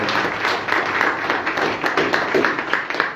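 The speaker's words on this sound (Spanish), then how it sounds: "yo les pido de verdad otro aplauso maravilloso" Audience applause at a talk on a woman's story in Colombian culture, a brisk, fairly close burst of many hands clapping steadily throughout, with faint voices mixed in.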